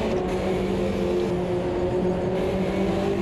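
A 1970s touring car engine in the Automobilista 2 racing game drones steadily at close range, with constant harmonic tones and no clear shifts in pitch or loudness.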